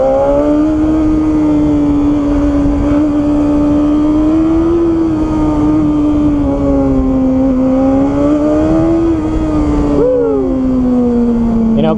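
BMW S1000RR sport motorcycle engine heard while riding, a loud steady high-pitched drone that rises and falls slightly with throttle, with wind noise throughout and a brief pitch dip near the end.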